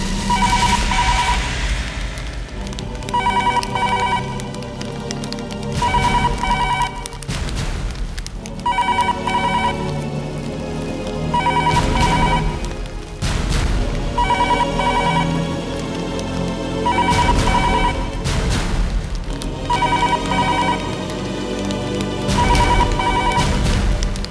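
A telephone rings repeatedly and goes unanswered during a tense police crime drama scene, loud ring bursts in a regular rhythm over a dramatic background score, with no voices heard.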